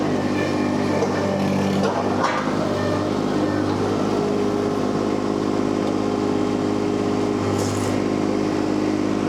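A Baumalight mini skid steer engine runs steadily nearby, a continuous droning rumble with no break over the whole stretch.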